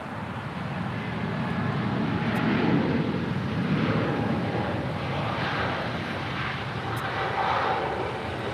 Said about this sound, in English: Emirates A380 is the next arrival there on 6 left on the north side.